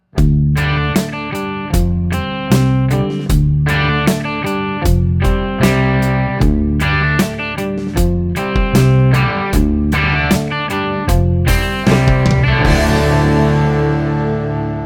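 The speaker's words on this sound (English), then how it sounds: "That sound you just heard is the bridge pickup" Electric guitar, a modified Telecaster, on a bright, twangy bridge-pickup tone playing a rhythmic riff of punchy, evenly spaced chords, closing on a ringing final strum.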